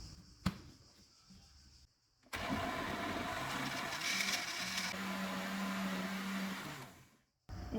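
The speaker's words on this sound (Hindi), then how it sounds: "इनको ब्लेंड करेंगे।" An electric blender whirs loudly, blending mango with milk and vanilla ice cream for several seconds before spinning down, preceded by a few brief clatters and a short quieter stretch.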